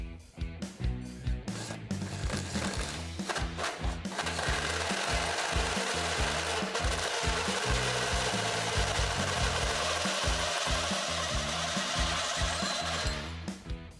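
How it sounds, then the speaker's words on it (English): Power tool cutting holes in the steel frame rails of a 1971 Chevy Caprice, a loud, continuous grinding buzz with choppy bursts at the start and a long steady cut through the middle. "After cutting out our holes"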